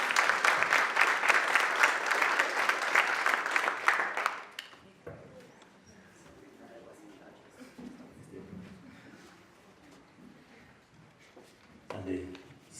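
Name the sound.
applause for the debate winners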